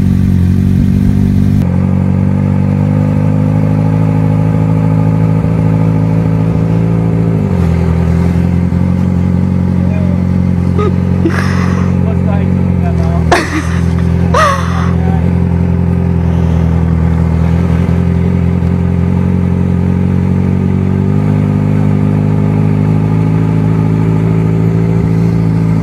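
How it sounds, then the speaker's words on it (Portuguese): A Yamaha XJ6 motorcycle engine idles loudly nearby, then revs and pulls away as the clutch is released, the steady engine drone rising and shifting with a few clattering bursts. "Devagarzinho, soltando a embreagem, acelerando."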